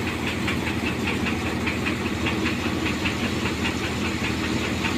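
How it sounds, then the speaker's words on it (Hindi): A tractor engine runs steadily beside paddy threshing on a Chhattisgarh farm, giving a loud, continuous close-up drone with a rapid rhythmic knocking pulse and no voices over it. "और ट्रैक्टर को भी यहाँ पे लगा लिया हूँ।"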